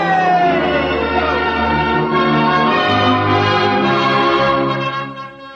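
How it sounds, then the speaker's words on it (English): Baptist, Congregationalist and Roman Catholic church bells ringing together in a sustained, overlapping clang, with a wailing factory whistle tone mixed in, fading toward the end. "The bells of the Baptist, the Congregationalist, and the Roman Catholic Church were ringing."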